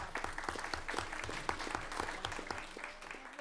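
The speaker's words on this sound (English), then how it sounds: "So I want to give you guys a round of applause" A room full of people applauds a class at a town meeting, steady dense clapping throughout at moderate distance, with no talk over it.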